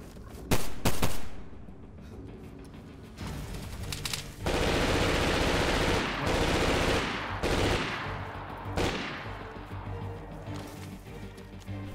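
Gunfire in DayZ from a sniper rifle: several loud, close shots and crashing blasts spread over twelve seconds, with dense heavy firing in the middle stretch and a few sharp reports near the start.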